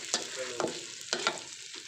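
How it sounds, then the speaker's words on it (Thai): Close, sharp metallic knocks of a spatula against a wok, four or five irregular strikes over a constant frying sizzle while stir-frying spicy swamp eel. "เสียงเคาะกระทะ"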